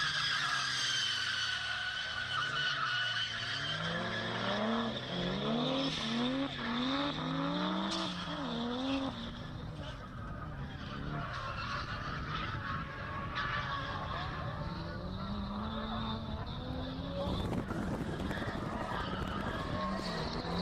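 Nissan Laurel drift car on 15-inch wheels, sliding through a drift battle at Drift Nationals with worn tyres, a loud continuous tyre skid and squeal over a rising and falling engine whine, close and sustained throughout.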